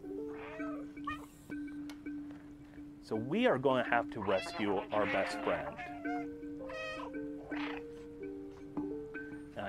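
A cat meows in the video game Stray, several short meows over background music while a voice talks throughout.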